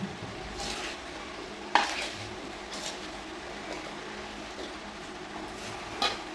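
Food being stirred and mixed in a pan in a home kitchen, a soft continuous sizzle with scraping strokes and a couple of sharper clinks of the utensil against the pan, no talking.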